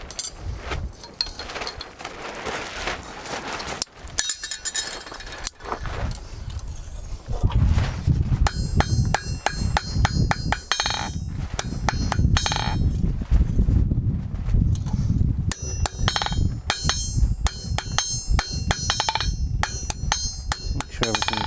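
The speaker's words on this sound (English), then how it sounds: "Just go hammer from here" A hammer strikes a hand-forged metal kebab skewer in a steady, repeated run of sharp, ringing metallic blows, loud and close, with an anvil-like ring on each hit and only brief pauses between bursts.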